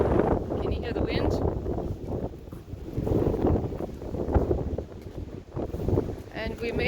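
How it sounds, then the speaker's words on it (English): Winter wind gusts across a snowy driveway and sidewalk, a loud, rushing roar that swells and fades in waves close to the microphone. "can you hear the wind?"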